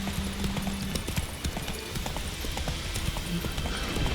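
Horse hooves clip-clopping steadily on the ground in The Witcher 3, an even rhythm of hoofbeats held at a moderate distance under a continuous ambient background.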